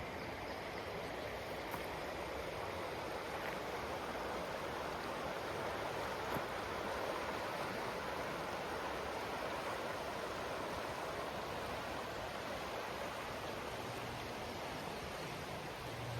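A river flowing right beside a campsite gives a steady, broad rushing wash that holds unchanged and moderately close throughout, with no voices.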